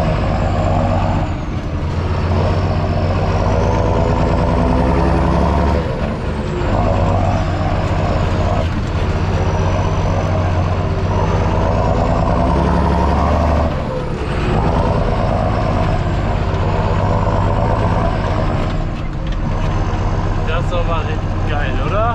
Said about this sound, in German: wir haben hier dicken 7430 Sound am Start